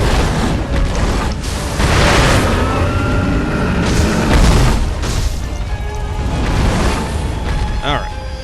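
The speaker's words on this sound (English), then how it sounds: "Like we can do the firecrackers one more time." Firecrackers burst in the video game Sekiro amid combat, several loud booming pops and crashes with clanking mechanisms and swishes, dense and close, while someone talks over the game sounds.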